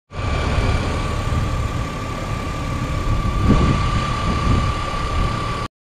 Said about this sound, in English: I let the engine run for 20 minutes